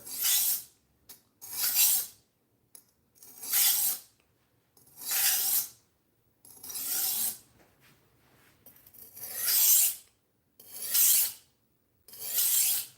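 Repeated strokes of a budget knife blade drawn across a whetstone during sharpening, about ten separate rasping passes in an uneven rhythm with short silent gaps between them, close and fairly quiet.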